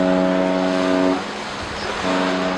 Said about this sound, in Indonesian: Pilot dari kapal tanker ini telah melakukan tugasnya dengan baik dengan membunyikan klakson berulang